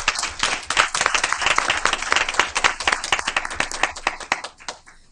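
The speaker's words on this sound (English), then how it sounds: "Please join me in giving them one more final round of applause." An audience at a school board meeting gives school principals a round of applause, close and lively clapping with sharp individual hand claps that fades out over about five seconds.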